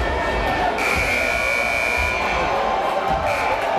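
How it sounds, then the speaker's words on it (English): A basketball game buzzer at a boys' high school playoff game gives one long loud blare over a noisy gymnasium crowd. "The buzzer sounds."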